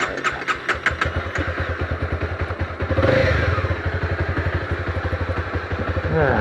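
A new motorcycle idles close by with a fast, steady chug, then revs up sharply and settles back into a throbbing idle as it gets ready to pull away.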